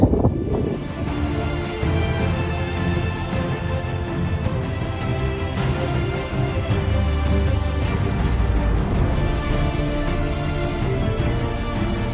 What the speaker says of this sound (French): Un petit vent glacé.